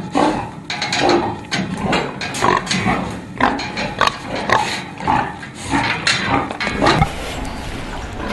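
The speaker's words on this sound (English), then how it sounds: "Male pigs are called boars." Male boar pigs grunt loudly and repeatedly in a pen, with rough, close snorts and oinks arriving in irregular bursts throughout.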